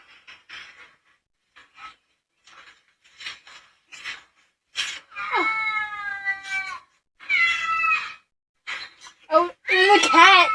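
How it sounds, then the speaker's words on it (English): A pet cat meows several times in drawn-out, wavering calls, the later ones louder and more insistent, with soft clicks and rustles between them and no voices over it. "Oh, the cat!"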